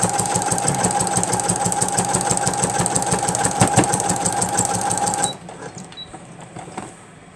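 A home sewing machine runs fast and steady with a rattling, chattering rhythm as its bobbin thread runs out, then stops abruptly, leaving faint clicks and room hush.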